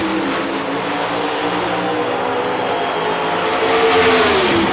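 Two Pontiac Pro Stock drag racing cars in a 1990s final round, a loud roaring engine blast that rises in pitch as they accelerate down the strip, steady and close with no talk.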